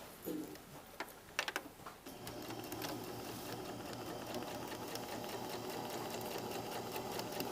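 A sewing machine runs steadily at close range, stitching a skirt's back darts with a backstitch, starting after a few sharp clicks and then humming in a continuous mechanical whir.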